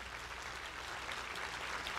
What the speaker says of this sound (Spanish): que le dé un fuerte aplauso